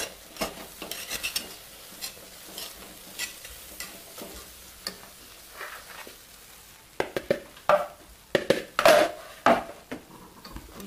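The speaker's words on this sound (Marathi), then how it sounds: "थोडं थोडं करून मी पीठ टाकणार आहे आणि अशा प्रकारे मी हे पीठ चांगलं ह्यामध्ये हटून घेतले।" Flour stirred a little at a time into a pan for homemade Kurkure, a spoon scraping and knocking against the pan in quick uneven strokes with faint sizzling beneath, growing louder and busier toward the end; nobody speaks.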